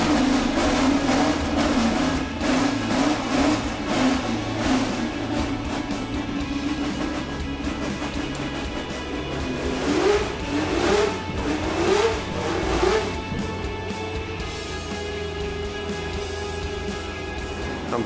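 Type 38 Lotus racing car being driven, its engine revving in rising and falling bursts, with several sharp throttle blips and gear changes before settling into a steadier drone, loud and close.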